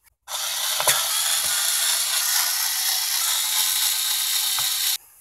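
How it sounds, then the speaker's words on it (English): Screws come out of the back cover of an RCA DETK185R television with a continuous close ratcheting clatter, steady for nearly five seconds and then stopping abruptly, with no voices. "the back itself is held on with just those eight screws, and we'll go ahead and remove those"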